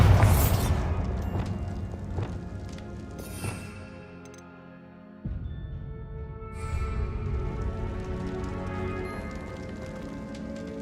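Bombarda blasting spell cast in Hogwarts Legacy gameplay: a sharp boom with crackling debris, a drop to near silence, then a second burst followed by a steady rumbling, rattling wash of falling rubble.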